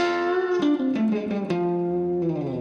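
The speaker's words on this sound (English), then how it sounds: "That's just the guitar going into the amp." A Fender Stratocaster electric guitar, played straight into an amplifier with no effects, rings out in sustained, bending notes with sharp plucked attacks, loud and close, with no talk.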